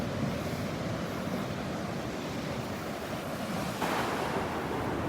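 Surf breaking along a Gulf beach at Delnor-Wiggins during a red tide, a steady, dense wash of waves that grows slightly louder near the end, with wind buffeting the microphone and no voices.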